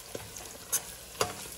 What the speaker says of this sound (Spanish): Para empezar tenemos el chorizo cociéndose, ¿verdad?